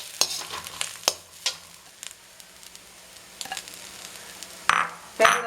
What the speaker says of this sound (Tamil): தேங்காய் கொஞ்சம் செவக்க வறுக்கணும்